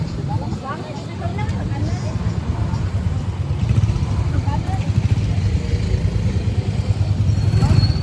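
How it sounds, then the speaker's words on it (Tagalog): Motorcycle ride heard from on board, a steady low engine drone with road and wind noise running continuously, with voices talking over it. "Sakay na naman tayo sa motor."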